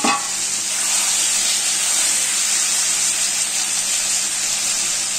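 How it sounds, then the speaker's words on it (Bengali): Ridge gourd (jhinge) for a Bengali torkari fries in oil in a lidded pan, giving a loud, steady, unbroken sizzle close by with no speech. "এবার আমি লিডটা চাপা দিয়ে 2-3 মিনিট মতন ভাজা হতে দেব"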